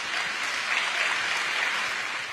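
Audience applause fills a village celebration evening of Teochew opera singing, an even, dense clapping that holds steady at full strength throughout, with no voices over it.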